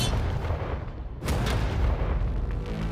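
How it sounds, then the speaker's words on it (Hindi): Tank cannon fire on an outdoor range, a heavy booming blast rolling under continuous loud rumble and dusty noise, one sharp report standing out near the middle of the span. "ये 5 टैंक्स पैसों पर निशाना लगाकर 20 राउंड फायर करने वाले हैं।"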